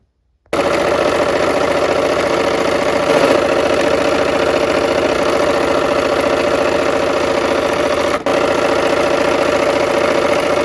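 Sewing machine stitching flying geese quilt blocks, a steady continuous mechanical whir running close and loud for about ten seconds, with a brief dip near the end and no talking.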